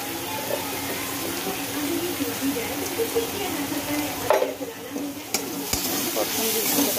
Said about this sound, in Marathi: परतून घ्यायचं जरा व्यवस्थित.